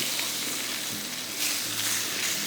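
Salt and pepper pork chops fry undisturbed in a pan, giving a steady, close, moderately loud sizzle with crackling spits throughout and no voices.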